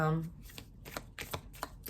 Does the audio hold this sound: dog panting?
no